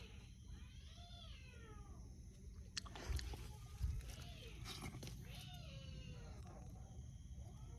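Cat meowing near a cave house at night, a string of drawn-out rising and falling meows over steady background noise, with a couple of louder knocks partway through.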